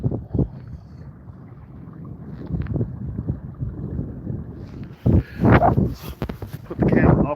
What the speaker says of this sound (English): I don't know if you can hear the water flowing over the hull.